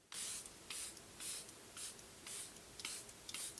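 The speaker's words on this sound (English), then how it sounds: "So to set my face, I'm using the Charlotte Tilbury Airbrush Flawless Setting Spray." Quick bursts of Charlotte Tilbury Airbrush Flawless Setting Spray misted onto a face, about seven or eight short hissing pumps in a steady rhythm, close and clear with no talking.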